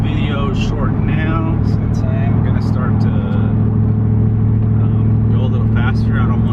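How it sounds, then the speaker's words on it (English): A truck engine drones steadily at close range while driving, a constant low rumble running throughout with a voice talking over it. "you hear the truck sound of my truck"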